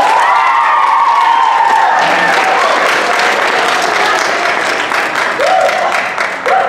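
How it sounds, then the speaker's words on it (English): Applause and cheering from a school audience for fifth grade DARE graduates, with whoops and children's shouts over steady loud clapping, a voice briefly audible partway through. "A round of applause for them."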